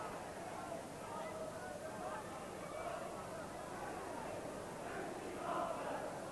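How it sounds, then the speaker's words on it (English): A football crowd at Liverpool versus Luton Town applauds and murmurs in a steady, distant roar, with a commentator talking over it. "Stevens draws applause for his work"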